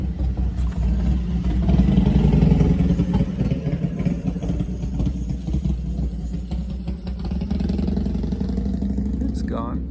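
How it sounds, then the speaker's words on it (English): A motorcycle engine rumbles steadily nearby in Santa Teresa, New Mexico, swelling and fading slightly as it passes, with a voice talking over it. "just gonna stop till this noisy motorcycle goes by."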